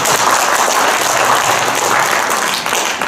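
A seminar audience of wrestling coaches and referees breaks into loud, steady applause, with dense clapping that fills the room throughout and eases slightly at the end.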